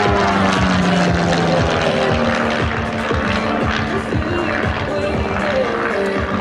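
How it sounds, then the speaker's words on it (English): Light aerobatic propeller airplane with a 200-horsepower IO-360 engine performing at an airshow, its loud, steady buzzing drone pulsing rapidly as it passes close by, continuous throughout with faint voices underneath. "that is probably the biggest barrel roll you will ever see come by an aircraft like this"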